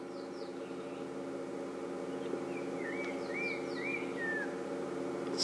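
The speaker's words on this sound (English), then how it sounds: "And it's a black-crowned chagra." Several faint whistled calls of a black-crowned tchagra, some slurred and descending, sounding from a distance over a steady background hum.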